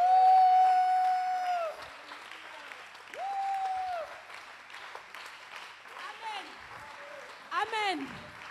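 A church congregation applauding and cheering during an evangelical service, a loud burst of clapping that continues under a preacher's sung and spoken voice.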